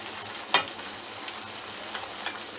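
Okra fries in a pan with spices, a soft, even sizzle with one sharp stir or clatter early on and faint scrapes later.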